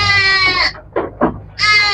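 Sheep bleat on an Indonesian sheep-breeding farm: a long wavering bleat, a pause with a couple of short rustling knocks, then a second loud bleat, close and clear with no talk.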